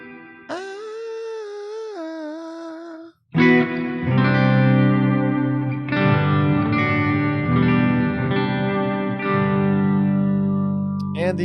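An electric guitar plays a sustained chord, then a series of strummed chords drenched in lush reverb, ringing out and blending together.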